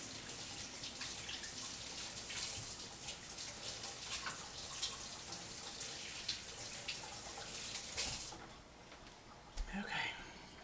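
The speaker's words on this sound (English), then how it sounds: "I got to put some warm water on it." Warm water runs steadily from a kitchen tap over flour-covered hands mid-way through mixing homemade biscuit dough, a constant close hiss that thins out near the end.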